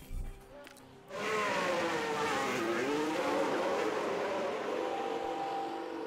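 A Formula 1 race car engine screams through a fast lap in F1 Manager 2022. It cuts in after a short quiet start, then holds high and loud, its pitch rising and falling through gear changes and corners.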